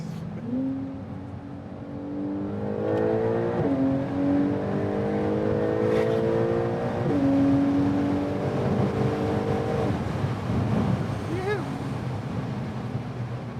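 A tuned Porsche 992 Turbo S engine builds through repeated rising pulls, rumbling steadily from inside the car while people talk over it.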